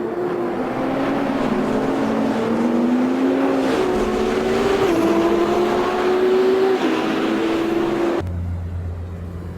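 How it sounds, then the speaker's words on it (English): A racing car's engine in Automobilista 2 hums steadily with a rising electric hybrid-system whine layered on top as it drives down the pits, ending abruptly with a brief low rumble. "the classic telltale sound of the electric hybrid system working as the car drives down the pits"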